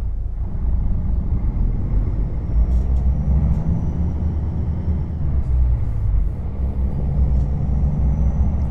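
A Freightliner Classic XL truck in American Truck Simulator pulls away hauling double container trailers, a steady loud low engine rumble that swells and eases, with no talk over it.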